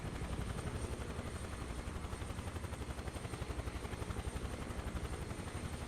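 Huey helicopter flying in Microsoft Flight Simulator 2024, a steady rotor thump and turbine roar holding constant and fairly loud throughout, with no talking.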